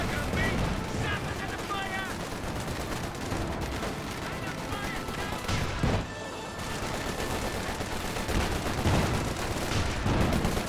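Dense bursts of machine gun fire and other gunfire in a Company of Heroes 2 battle, with an MG34 among the weapons, rattling continuously under a commentator's voice.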